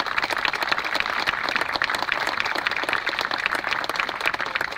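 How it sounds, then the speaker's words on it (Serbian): Audience applause at a political rally, a crowd clapping in a dense, steady patter with crisp individual claps standing out, sustained at an even level from start to finish. "Jedan aplauz za sve naše te Srbe."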